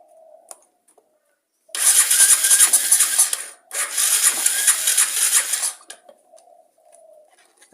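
An engine with a faulty carburetor, fuel leaking from the overflow, cranked twice in two harsh grinding bursts of a few seconds each, close and loud, separated by a short pause, without catching; quiet surroundings before and after.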